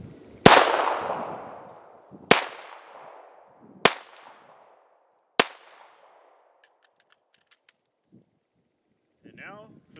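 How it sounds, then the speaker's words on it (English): Four sharp, loud shots from an unsuppressed pistol ring out outdoors, evenly spaced and each followed by a short echoing decay, with faint rustling afterward. "To start with here, we'll go with the unsuppressed pistol."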